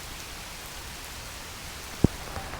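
Heavy rain falling steadily during an e-bike commute in Omaha, a dense even hiss of drops on surfaces with one sharp close knock near the end.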